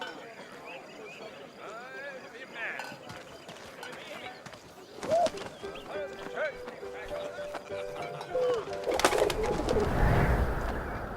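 A pigeon coos in the video game 11-11 Memories Retold, soft calls over a busy ambient backdrop with clopping and rustling that swells toward the end.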